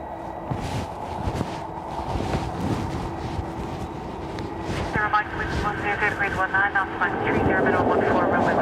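Airliner EIFNG roars through its takeoff run at Dublin Airport on a windy day, a steady heavy engine rumble swelling toward the end, with gusts buffeting the microphone and a person talking over it.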